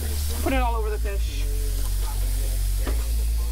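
Black sea bass, painted with seasoning, sizzles steadily in a hot pan, a continuous frying hiss under a low hum while people talk nearby.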